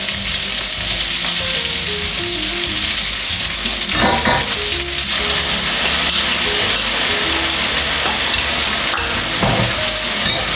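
Soft noodles and sauce stir-fried together in a hot pan during a Thai cooking class, a loud crackling sizzle with scraping stirs and occasional clatter, steady throughout.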